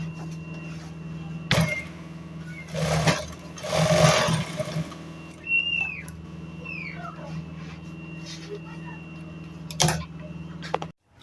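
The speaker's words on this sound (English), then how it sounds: "I have done the sewing here" A sewing machine works on a simple dress, giving a steady motor hum broken by sharp ticks and clicks, with a few louder bursts over a quiet room.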